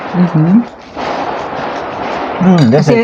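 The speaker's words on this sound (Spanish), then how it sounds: "Si escuchan el boom boom, es que están reventando cohetes" Christmas Eve firecrackers pop and rumble in the distance, a muffled crackling burst heard between and under bits of nearby talking.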